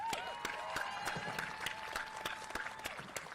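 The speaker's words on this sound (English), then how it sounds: "Clap it up, y'all." Graduation crowd applause at Tamalpais High School, fairly faint, distant clapping with a few distinct claps popping out and a faint sustained tone underneath.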